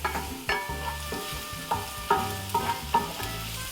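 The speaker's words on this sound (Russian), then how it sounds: "наливаю немного растительного масла для жарки и первым высыпаю сюда лук, помешивая, пассерую его, пока он не станет прозрачным" Onion fries in vegetable oil with a steady sizzle while being stirred, with repeated clunking scrapes of a utensil against the pan, close up.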